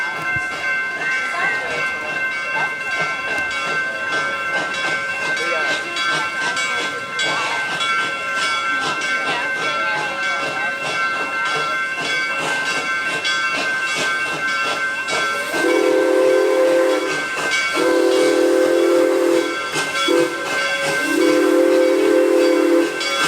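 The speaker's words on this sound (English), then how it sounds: "The train is coming." A steam-style amusement park train approaches, with continuous hissing throughout and a loud tonal whistle blowing in several bursts near the end, over background chatter.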